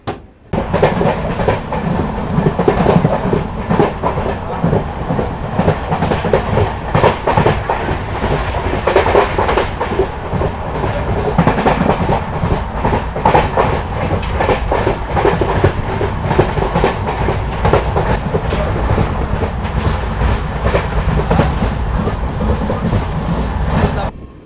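Matsyagandha Superfast LHB train running from Mangaluru to Mumbai along coastal Karnataka, heard from on board as a steady rumble with rhythmic clickety-clack of wheels on rail joints throughout.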